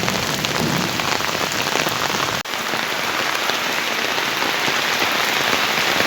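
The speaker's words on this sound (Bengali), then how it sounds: "বৃষ্টির গুড় গুড় শব্দ আপনারা শুনতে পাচ্ছেন" Heavy rain pours down steadily in Sylhet, Bangladesh, at the start of Boishakh, a dense, continuous hiss of drops on surfaces with no voices, broken by one brief dip midway.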